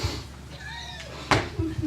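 A cat gives a short, thin meow, followed by a sharp clack and a few soft knocks, with a voice briefly present.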